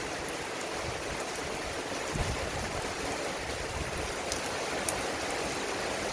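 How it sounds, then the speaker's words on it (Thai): Heavy rain pouring down outside a house, a dense, steady rushing hiss that continues without a break. No distinct thunderclap stands out. "ฝนตกแรงนะนะครับ"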